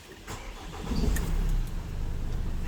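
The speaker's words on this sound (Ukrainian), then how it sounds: "Автомобіль завівся м'яко" The diesel engine of a 2017 Opel Movano refrigerated van cranks and catches, then settles into a steady, low idle rumble close by.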